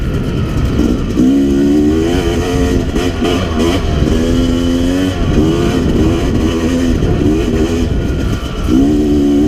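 A 2017 Yamaha YZ250X dirt bike engine pulls through the gears into third while riding, giving a loud, close, continuous two-stroke drone whose pitch rises and falls over steady wind rush.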